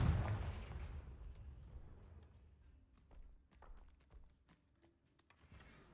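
A Confringo fire spell blast in Hogwarts Legacy: a quiet, muffled burst at the start that fades slowly, followed by faint scattered thuds and soft taps.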